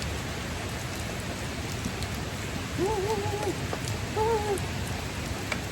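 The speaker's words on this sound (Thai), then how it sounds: "ตอนนี้ฝนตกอีกรอบแล้ว" Steady rain falls on a rural village night scene, a dense continuous hiss filling the whole stretch, with two brief tonal calls, probably birds or animals, rising faintly above it near the middle.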